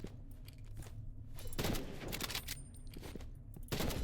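Rapid bursts of video game gunfire crackle in a dense, steady volley, with thumps of movement mixed in and no voices.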